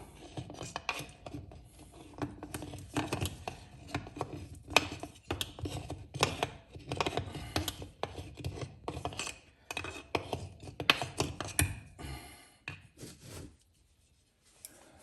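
A foggy car headlight lens is rubbed clean with alcohol, giving close, rhythmic rasping scrub strokes that go on steadily and then fade to quiet near the end.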